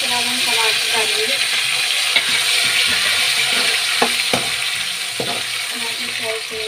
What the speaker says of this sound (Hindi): टमाटर फ्राई करेंगे।